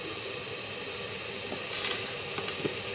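Turmeric goes into hot oil during pav bhaji cooking and sizzles with a constant close hiss, with a few faint stirring clinks.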